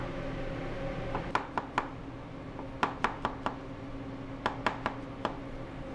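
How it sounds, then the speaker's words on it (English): Fresh mushrooms being hand chopped with a knife: sharp, irregular knocks on a cutting board in short bursts of two to four strokes, over a steady low kitchen hum. "It's not your first time chopping mushrooms,"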